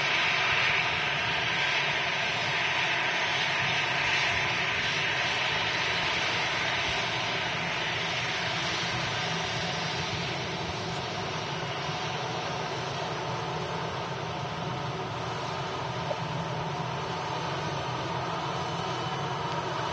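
A business jet and an EasyJet airliner depart from Manchester Airport, producing a continuous broad jet-engine roar that holds steady over the whole stretch, heard from a fixed distance.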